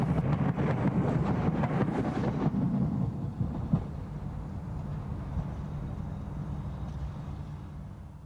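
Class 313 electric trains roll through Hatfield Station on the East Coast Main Line in snow, a steady low rumble and rail clatter that fades after a few seconds into a quieter, distant hum.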